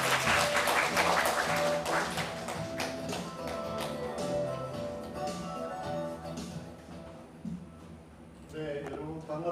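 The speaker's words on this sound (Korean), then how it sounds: "박수 부탁드리겠습니다." An audience at a Korean climate-change citizens' forum claps in a dense burst that gradually thins, mixed with background music and murmuring.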